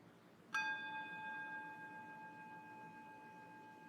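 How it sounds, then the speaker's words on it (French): A single meditation bell struck once, closing a yoga session: a clear bright strike followed by a long, pure ringing tone that slowly fades over several seconds in a quiet room. "on va écouter un son de cloche"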